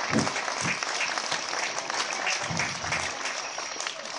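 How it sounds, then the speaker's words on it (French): Audience applause after a puppet show, a dense, sustained clapping that stays loud and even throughout without any talk. "Bons applaudissements."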